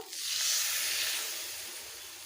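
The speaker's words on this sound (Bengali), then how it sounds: "মশলাগুলোকে আমি ভালোভাবে কষে নেব" Spices with Kashmiri chilli powder fry in a pan for a Bengali fish curry, giving a soft, steady hiss that swells quickly and then slowly fades, quiet and unbroken.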